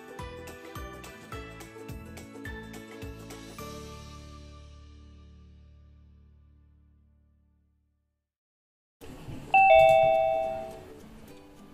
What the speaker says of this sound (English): That is the sound of our participant joining.